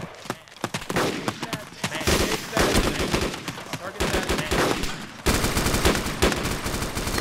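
Rapid gunfire from the military shooter game ARMA 2, dense bursts of shots crackling continuously throughout, loud and close, with brief shifts in intensity between volleys.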